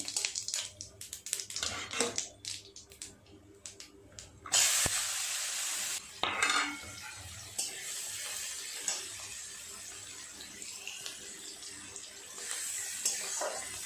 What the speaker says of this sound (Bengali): খুব ভালো করে পেঁয়াজটা নেড়ে চেড়ে ভেজে নেব লাল লাল করে